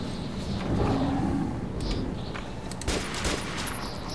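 Gunfire in the Metro 2033 Redux video game: a sustained burst of shots that is loud and close, followed by scattered sharper cracks, mixed with a steady game ambience.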